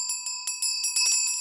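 A Buddhist ritual handbell (yoryeong) shaken by hand makes a series of bright, ringing metallic strikes in an uneven rhythm. It is close and clear, with no talking, and the strikes grow denser toward the end.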